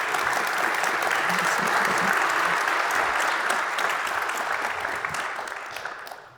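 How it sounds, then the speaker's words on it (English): Sustained audience applause at an energy-sector conference, dense and steady throughout, tapering slightly at the very end. "A round of applause for Alana,"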